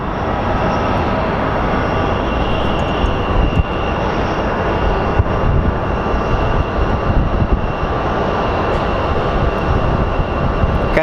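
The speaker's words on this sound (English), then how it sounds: "It's an Airbus A321" An Airbus A321 airliner at Phoenix Sky Harbor airport gives a loud, steady jet roar that holds without a break from start to finish.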